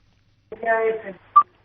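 Telephone line on a live call-in medical advice show, with a short burst of phone-line audio like a voice or tone coming through, then a brief sharp beep near the end.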